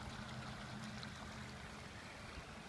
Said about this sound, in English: There's a lot of water coming over the ridge, off of the ridge into this wetland unit.